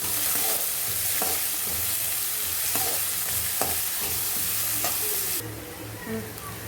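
Onions, mint and a green chili sauté in hot oil, giving a steady dense sizzle with a few soft stirring knocks scattered through; the hiss thins slightly near the end.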